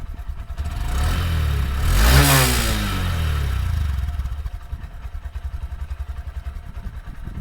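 Honda SP 125 BS6 motorcycle engine revving close up, climbing sharply to a loud peak, falling back, then settling into a steady pulsing idle with no talk.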